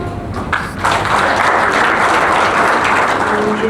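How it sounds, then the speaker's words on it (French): Loud, dense applause from an audience welcoming a speaker to the stage, continuous clapping building quickly and holding steady throughout. "j'aimerais bien qu'on puisse accueillir Béni, peut-être ce soir, pour applaudir"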